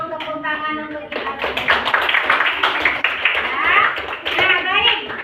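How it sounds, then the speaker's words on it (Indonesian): Children and a teacher clap their hands together in a primary-school classroom, a burst of quick, uneven claps lasting several seconds after a child's answer, close and fairly loud, with a voice speaking at the start. "tepuk tangan untuk kita"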